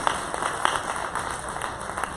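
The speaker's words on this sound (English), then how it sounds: "That's a good place to clap." A church congregation applauds at a preaching service, a dense patter of many hands clapping steadily at moderate loudness, with a few sharper nearby claps standing out.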